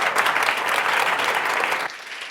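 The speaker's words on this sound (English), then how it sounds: "Let's give a round of applause to our panelists." Audience applauding panelists from the World Affairs Council at a women-in-tech event, a dense steady burst of clapping that stays loud, then drops to a thinner patter near the end.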